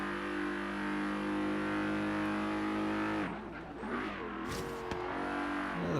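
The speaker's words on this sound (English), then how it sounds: "You can hear the whistling of the supercharger." A centrifugal supercharger whistles over the steady engine drone of the Quartz Regalia in the racing game Forza Horizon 3, a sustained high tone running for about three seconds before the engine note breaks up with brief tire and gear noises.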